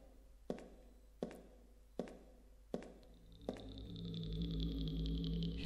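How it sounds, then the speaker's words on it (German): Eerie alien noise in the horror video game Sorrow Asylum: five sharp, evenly spaced metallic knocks with ringing tails, then a swelling drone with a high, pulsing whine that builds steadily. "Hier drüben ist immer noch dieses Alien-Geräusch."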